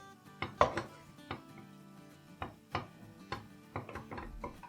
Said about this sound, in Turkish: Böyle 2-3 dakika kadar hamurumuzu pişireceğiz. Karıştırarak.